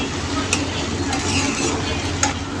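Chili and mustard seeds tempering in hot oil give a steady, dense sizzle with a few sharp pops and crackles, close and continuous throughout.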